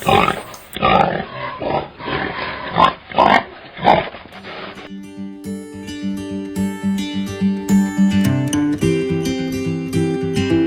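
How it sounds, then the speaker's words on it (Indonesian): Wild pigs grunt and snort loudly and close by near a tent on Mount Gede Pangrango, making bursts of rough noise for several seconds before music takes over. "terdengar lagi suara babi, bahkan lebih dari satu, seolah-olah babi itu sedang mengepung tenda kami"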